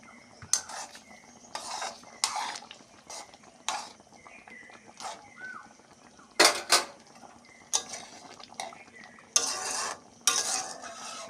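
A spoon of ghee is stirred into a simmering jackfruit-seed and pea-lentil fritter curry, with repeated metal-on-pot scrapes and clanks in irregular bursts over a faint sizzle, close and clear.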